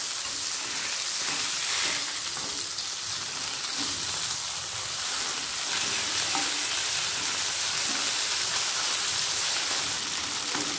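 Tangra fish frying in a covered pan over a gas flame, giving a steady, dense sizzle and crackle that holds at an even level for the whole stretch, with no voices.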